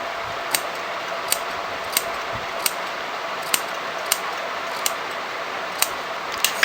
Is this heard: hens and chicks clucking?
no